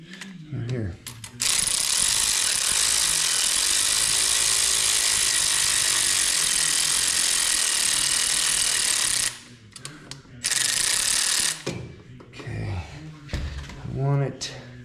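Tool tightening bolts during a turbo install on a 2024 Polaris Pro R, a loud continuous close mechanical whirring run with a short gap, followed by shorter bursts and some talking.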